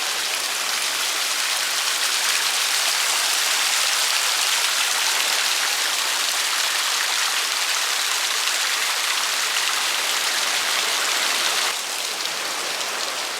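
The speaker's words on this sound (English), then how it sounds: "I do love waterfalls. I love the sounds that they make." Coastal waterfall near Land's End, Cornwall, a loud, steady broadband rush of falling water that continues without a break and has no voices over it.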